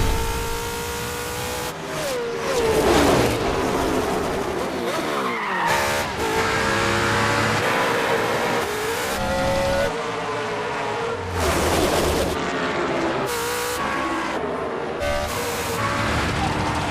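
NASCAR stock cars race in The Crew Motorfest video game, loud engines roaring and revving continuously with shifting pitch as cars pass, mixed with skidding tire squeals, all close and dense for the whole stretch.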